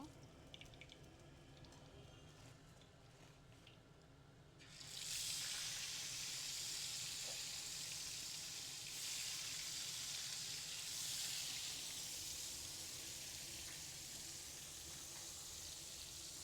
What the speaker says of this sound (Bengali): দেখেন কড়া করে আমি মাছটাকে ভেজে নিব।